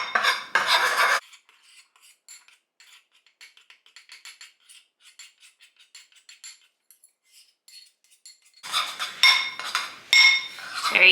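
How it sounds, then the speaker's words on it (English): A raw vegan chocolate mixture is stirred in a bowl with a utensil, producing bursts of scraping and clinking against the bowl, quiet intermittent taps between them, then loud stirring again. "you have to mix it for about like a minute"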